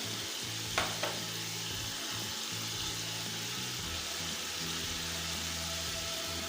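Chicken macaroni masala sizzles steadily in a pan with vinegar and soy sauce, a loud continuous frying hiss with a couple of sharp clinks near the start and a low hum underneath.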